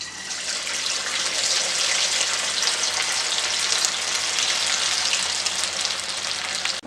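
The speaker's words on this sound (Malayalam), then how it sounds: "അപ്പോൾ നമ്മുടെ വെറൈറ്റി മുട്ട ബജി ഞാൻ ചട്ടിയിൽ ഇട്ടിട്ടുണ്ട്." Egg bajji frying in hot oil in a pan, a steady dense sizzle and crackle that holds evenly throughout without any talk.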